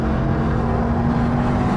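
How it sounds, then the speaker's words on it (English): A Mercedes-AMG E63 S engine revs steadily with a loud, deep rumbling drone and a sustained low hum, close and continuous. "Revs are nice."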